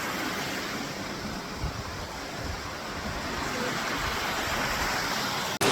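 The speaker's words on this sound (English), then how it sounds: "you'll have to check out this waterfall right here" A waterfall cascade in an underground river in Zion National Park gives a steady, broad rushing roar of falling water, continuous and fairly close, with some wind buffeting.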